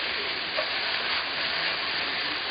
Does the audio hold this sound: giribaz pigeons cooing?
no